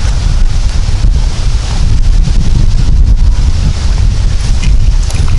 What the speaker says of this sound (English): I really hope the wind isn't getting in here too much